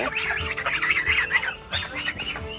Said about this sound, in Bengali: এই যে আমার রাজহাঁসগুলো